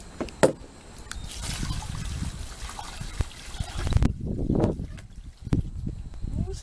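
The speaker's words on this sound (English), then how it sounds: "I just put this water right back in the garden." Water is poured out onto a backyard kale garden, making a splashing trickle for a few seconds before it thins into scattered drips and soft handling noises, with faint voices nearby.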